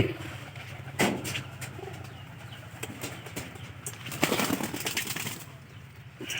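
Soft, low cooing of a crossbred Giribaz pigeon repeats in a steady rhythm, with occasional wing flaps and rustling nearby.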